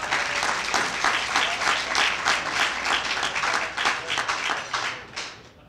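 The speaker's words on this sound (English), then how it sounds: "Let's clap it up for Lauren." Applause for an honoree at a football lifetime achievement award ceremony, a full room clapping loudly and steadily before tapering off at the close.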